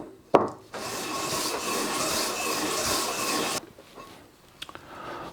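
A plaster sphere mold surface being lapped flat gives a steady, close scraping rub lasting about three seconds, followed by a few faint clicks and handling sounds.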